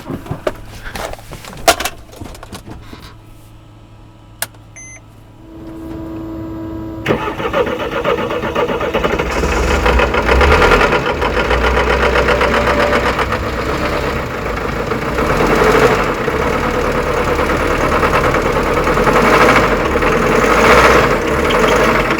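A delivery van with a blown engine is started and runs rough with knocking. Scattered clicks and a brief quiet spell come before it, then it catches into a loud, close, uneven idle that continues to the end.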